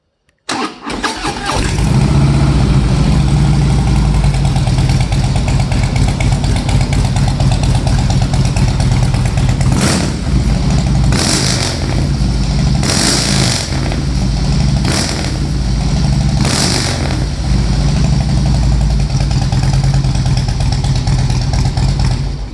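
A 2016 Harley-Davidson Heritage Classic motorcycle fires up and settles into a loud, lumpy idle close by, with several sharp throttle blips rising above the steady rumble.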